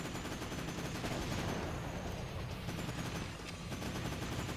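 Dense, continuous gunfire from The Terminator: Dawn of Fate video game, rapid bursts blending into a loud unbroken roar for several seconds.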